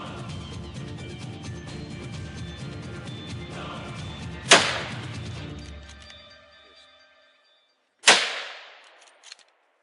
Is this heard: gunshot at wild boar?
yes